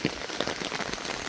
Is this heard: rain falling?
yes